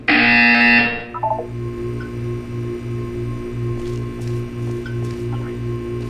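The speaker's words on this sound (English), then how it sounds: "You will hear a buzzer." Loud harsh electronic buzzer from the video game Portal 2 blares for under a second, then a pulsing low mechanical hum repeats steadily behind faint room tones.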